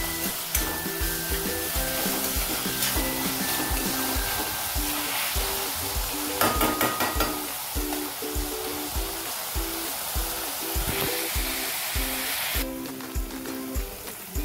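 Vegetables stir-fry on high flame for fried rice with a loud, continuous sizzle. Rhythmic scraping and tossing strokes from stirring the pan sit over a steady background tone.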